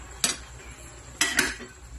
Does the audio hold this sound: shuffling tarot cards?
no